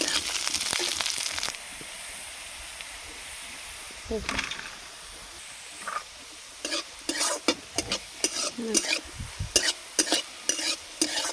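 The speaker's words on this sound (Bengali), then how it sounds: "দিয়ে ভালো করে আবার নেড়ে চেড়ে ভেজে নেব" Chopped carrot, capsicum and other vegetables stir-fried in a pan: a dense sizzle at first, then repeated loud scraping stirs in an irregular rhythm over a lower frying hiss.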